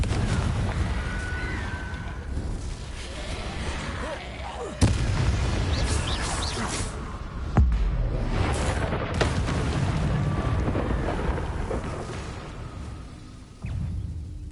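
Confringo blasting spell explosions in Hogwarts Legacy, booming blasts with sharp cracking impacts over a rumbling, noisy fight backdrop, with loud hits around five and seven seconds.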